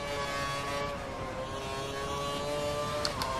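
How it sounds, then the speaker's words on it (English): A Formula 1 race car engine held at full revs during a Bahrain race in a racing game, a steady high-pitched whining drone with stable harmonics, no voices. "We think the car behind is running on full revs."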